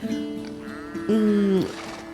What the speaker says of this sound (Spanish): Aquí hay 9 cabras y sus crías.